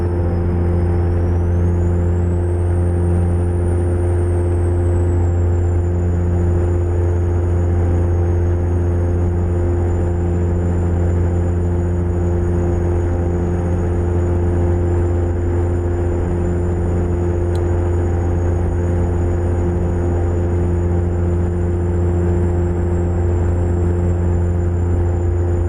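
Heavy diesel truck engine held at high RPM in American Truck Simulator, an HCT Viper pulling a turnpike double, droning steadily and loudly for the whole stretch with a constant low rumble and a faint high whine.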